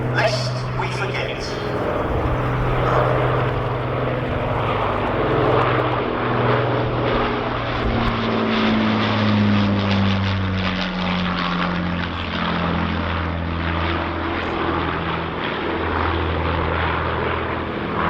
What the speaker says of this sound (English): every time the Battle of Britain Memorial Flight Lancaster takes to the skies